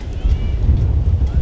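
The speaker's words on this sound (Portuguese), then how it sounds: "Show o vento hoje, viu?" Strong wind buffets the microphone at the seaside at Pontal de Maracaípe, Brazil, where windsurfers sail, producing a steady, loud low rumble with gusty swells throughout and no clear talk.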